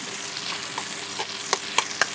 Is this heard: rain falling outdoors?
no